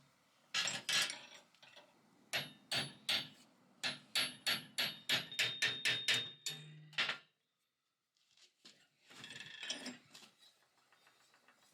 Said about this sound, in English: I can now rivet this piece onto the deck